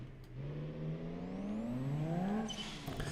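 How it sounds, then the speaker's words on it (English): Several car engines idle and rev together in the BeamNG driving game, layered rising and falling engine tones overlapping, steady and fairly close, with a whining high pitch near the end. "just having all those engines run at the same time, it's so much noise"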